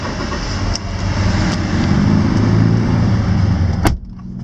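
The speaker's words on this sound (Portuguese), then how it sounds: "Vou ligar o veículo aqui." Ford Ranger Limited 4x4 double-cab pickup, 2015, with a 3.2 20-valve diesel and automatic transmission, starting up and settling into a loud, close, steady low rumble, cut by a sharp click just before the end.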